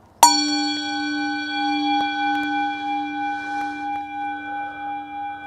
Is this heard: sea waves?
no